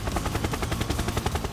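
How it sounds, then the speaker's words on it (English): A police helicopter in the video game Autobahn Police Simulator 3 gives a loud, steady, rapid rotor chop with no voices over it. "Got the helicopter on our side though."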